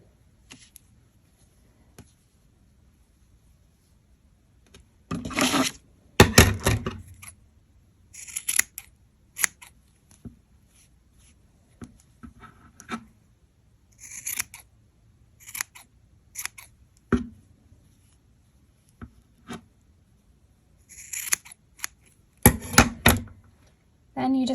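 Scissors snip crochet yarn while trimming the strands of a mini plaid gnome ornament, heard as a series of close, sharp cuts in small irregular bursts separated by quiet pauses.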